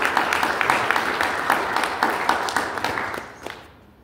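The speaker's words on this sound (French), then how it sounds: "Encore une fois, ça mérite un applaudissement." A church congregation applauds together, a dense steady patter of many hands at moderate volume that fades out near the end.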